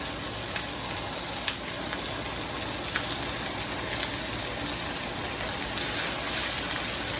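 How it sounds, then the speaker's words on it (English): Loud, continuous crackling sizzle of seasoned meat frying skin side down in a hot pan, with scattered pops and spits throughout and no talking. "Hear that sizzle? That is what you want."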